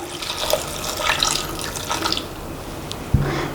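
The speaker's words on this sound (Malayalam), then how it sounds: "ആവശ്യത്തിനുള്ള വെള്ളം ഒഴിച്ചു കൊടുക്കാം" Water poured into a pot of vegetable kurma, a continuous splashing, running-water wash with a brief clunk near the end.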